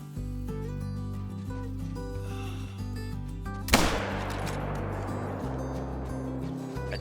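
A single loud rifle shot aimed at a deer in the hunting game theHunter: Call of the Wild at Layton Lakes, a sharp crack partway through followed by a decaying rumble over steady ambient outdoor tones.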